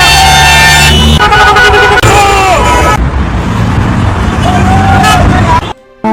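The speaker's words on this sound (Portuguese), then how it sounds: "Aqui, ó, todo mundo buzinando" Many car horns honk together in a street protest in Brasília, long overlapping blasts of differing pitches sounding loud and close over heavy traffic noise, then cutting off abruptly at the end.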